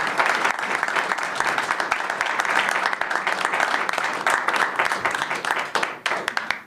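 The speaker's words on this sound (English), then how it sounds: "can we get a round of applause for Erick?" A round of applause for Erick from a live audience at Glitch in Marfa, Texas, crisp dense clapping with a few cheers, steady and close, thinning slightly near the end.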